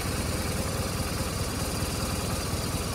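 A 2007 BMW R1200RT motorcycle engine runs steadily nearby, a constant low throbbing hum with even vibration throughout.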